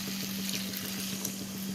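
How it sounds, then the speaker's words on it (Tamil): Tamarind water poured into a simmering pan of kulambu, a brief, steady, close splashing pour of liquid over a faint background hum. "கரைச்சி வச்சிருக்க புளித்தண்ணியை சேர்த்துடலாம்."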